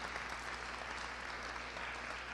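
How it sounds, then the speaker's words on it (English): Audience at a church community gathering applauds the master planning committee members, thick continuous clapping throughout at moderate level, over a low steady hum, with no speech heard. "So I think they all deserve a round of applause."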